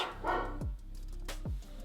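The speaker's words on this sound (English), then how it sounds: "My dog is barking." Two distant dog barks rise above steady background hum, spaced about a second apart, in a home setting during a makeup routine.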